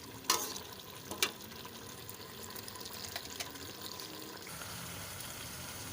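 A covered pot of potato and carrot curry cooks on high heat, giving a steady low bubbling and sizzling hiss, with a couple of sharp clinks near the start and no talking.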